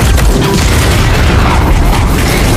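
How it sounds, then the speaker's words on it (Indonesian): A subsidized gas cylinder is shot in an empty building during a film gunfight and explodes, giving a loud, sustained roaring blast with rumbling debris that fills the whole moment. "menembak sebuah tabung gas bersubsidi yang mengakibatkan ledakan"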